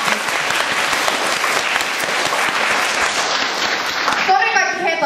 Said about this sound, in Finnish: Oikeesti, antakaa sille aplodit.